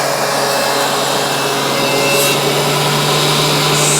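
A DeWalt DW735 thickness planer cutting wood: a steady, loud machine drone with a constant low hum and rough, continuous wood-cutting noise across the whole stretch.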